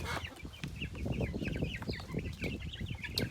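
Four-week-old chickens being moved from a brooder to a coop cluck and peep in a busy, overlapping chatter, close and steady, with no one talking.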